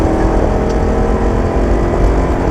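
A BMW engine pulls steadily in fourth gear on a racing circuit, a loud continuous drone with no breaks across the short stretch.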